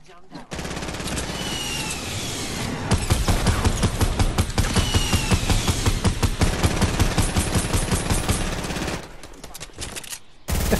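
Rapid automatic gunfire in the video game Fortnite, sustained bursts that run nearly the whole time and grow louder midway, with players talking over the shooting.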